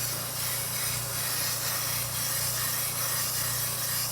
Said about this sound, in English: So that's how I get to spray the candy so it sticks.